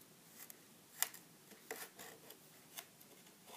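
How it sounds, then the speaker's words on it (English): Scissors cut through kinetic sand with soft, scattered snips and gritty crunches, one sharper click standing out, close and quiet. "Let's try and cut it with scissors."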